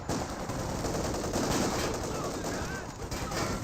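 Dense infantry gunfire from a Company of Heroes 2 battle, with Grenadiers, combat engineers and Sturm Pioneers fighting at an intersection; a steady, continuous crackle of rifle and machine-gun fire stays at an even loudness throughout.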